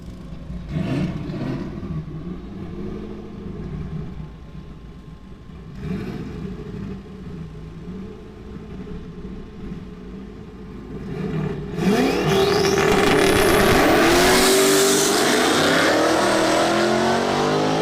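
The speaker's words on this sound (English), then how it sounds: "This stick Mustang, so this might be the one to watch on this pass." Manual-transmission Ford Mustang S550 race car at a street drag event, engine rumbling steadily before a sharp surge of loud revving acceleration as it launches and passes close by.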